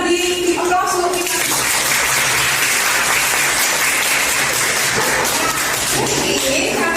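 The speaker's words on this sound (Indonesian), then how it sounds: "Kita beri aplaus untuk kita." A group applauds at a classroom teachers' event, with dense, loud, sustained clapping lasting several seconds while a voice talks faintly underneath.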